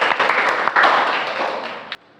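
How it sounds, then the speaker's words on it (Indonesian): Classroom applause from students during a lesson, a dense burst of clapping that fills about two seconds, then breaks off sharply near the end. "beri tepuk tangan untuk kita semua"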